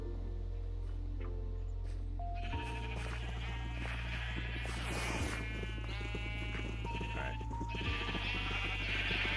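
Sheep bleat in a farming video game during a late-night base-building session, repeated cries riding over a steady low hum and busy background game sounds.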